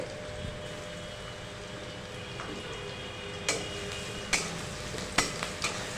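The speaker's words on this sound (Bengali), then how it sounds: "এবার আদাটা তেলের মধ্যে অল্প সময় নেড়ে নিয়ে দিয়ে দিচ্ছে কোচানো পেঁয়াজটা" Ginger and sliced onion sizzle in hot oil in a village kitchen, with a soft continuous frying hiss and several sharp clicks and scrapes as a utensil stirs the pan near the end.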